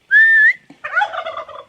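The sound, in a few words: turkeys gobbling on a farm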